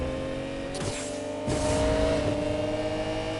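A Lamborghini Murcielago supercar's engine accelerating in the Need for Speed Payback video game, a steady roaring drone that swells louder halfway through, close and without talk.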